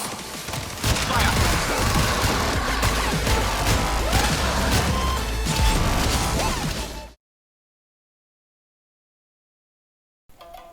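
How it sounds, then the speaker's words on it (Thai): Rapid gunfire from the Quatz, a compact pistol in a video game that fuses burst and automatic fire modes, crackling in dense volleys for about seven seconds before cutting to silence, with a brief burst returning at the end. "มีระบบยิงแบบเบิร์ดไฟและระบบยิงแบบออโต้ มันถูกฟิวชั่นมาในปืนเดียวกัน"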